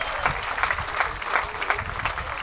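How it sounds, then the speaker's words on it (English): Dense, steady audience applause fills the air at an outdoor festival in Maui, a continuous wash of many hands clapping at close to mid distance with no voices over it. "One more time, a nice round of applause."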